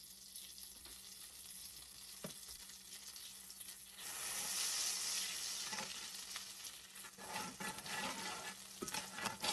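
Butter melts and sizzles in a frying pan after pork chops have been cooked, a steady crackling fry that grows louder partway through, with faint stirring scrapes and no voices.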